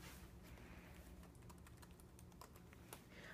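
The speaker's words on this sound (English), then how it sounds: "So let me type in my password here." Keys clatter on a 2009 MacBook Unibody keyboard as a password is entered, a quick, uneven run of soft taps heard close up against a faint background hiss.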